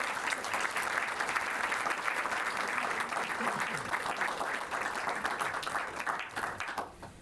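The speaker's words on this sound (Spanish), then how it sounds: "le pido un aplauso para Victoria" Audience at a human rights book fair panel applauds speaker Victoria Basualdo, a steady wash of clapping at moderate distance that holds evenly before dropping off abruptly near the end.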